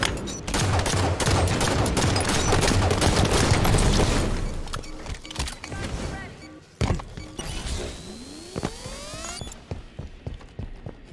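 Halo 5 video game gunfire: dense rapid bursts of automatic weapon fire for several seconds, then scattered single shots and mechanical clatter, with a rising whine near the end.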